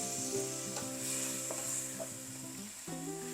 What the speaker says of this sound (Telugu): ఈ వాటర్ కూడా వేసేసుకొని పచ్చివాసన పోయేంత వరకు మంచిగా వేయించుకోవాలి